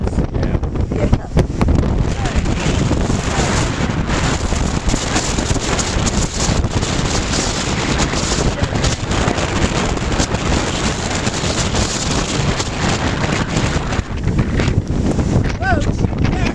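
Tropical storm rain and gusting wind lash a beach on Anna Maria Island, Florida, a constant loud roar of wind buffeting the microphone with driving rain and surf behind it; voices are faintly present.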